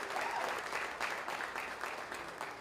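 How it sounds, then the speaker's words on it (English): Applause for organizers and volunteers at a tech summit, a steady patter of many hands clapping from a mid-sized audience, moderately distant and sustained without voices over it. "Please give them a massive round of applause for all the work that they do."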